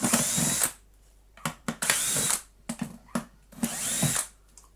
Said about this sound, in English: So we'll take the screws out